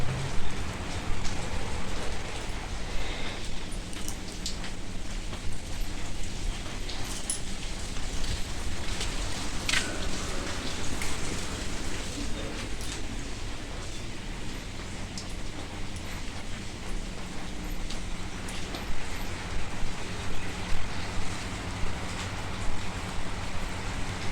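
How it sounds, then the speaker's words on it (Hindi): Heavy monsoon downpour at dawn around 5:30, a steady dense roar of rain drumming on surfaces that holds at an even, loud level throughout with no voices. "रात से झमाझम वाली बारिश हो रही है।"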